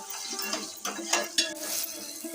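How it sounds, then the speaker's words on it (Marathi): Ginger paste with onion and garlic fries in oil for a village-style mutton curry, a soft sizzle broken by several sharp spoon scrapes and clinks against the pan, close and fairly quiet. "पेस्ट पण चांगली फ्राय करून घ्यायचे तेलामध्ये"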